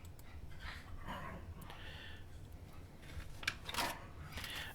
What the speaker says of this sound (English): my little dog Rupert is going absolutely berserk in the background